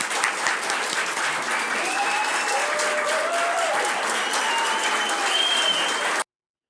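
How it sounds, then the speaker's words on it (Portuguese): Steady applause from a crowd, dense and continuous clapping that holds for about six seconds before cutting off abruptly. "Palmas para essas pessoas."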